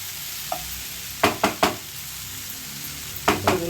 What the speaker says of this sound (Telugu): ఇలా వేగించడం వల్ల టెన్ మినిట్స్ ఇలానే ఉంచేసుకుంటే మనకి చేదు మొత్తం పోద్దండి కాకరకాయది